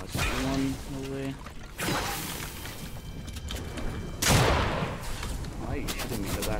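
Fortnite gunfire during a Cash Cup duo match, bursts of shots and loud impacts around a player's spoken voice.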